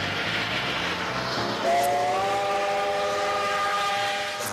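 A steam train sounds a sustained, loud multi-tone whistle that starts partway through, over the steady rumble and clatter of the rolling train.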